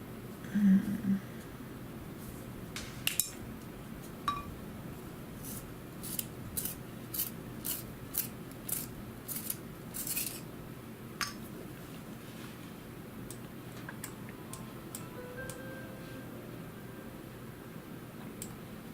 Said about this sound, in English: just sharpening my pencil here